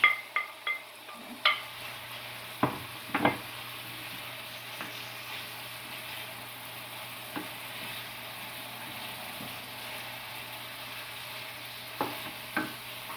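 Salted codfish frying in a pan for Jamaican ackee and saltfish, a steady soft sizzle with a few clinks and stirring knocks early on, no voices.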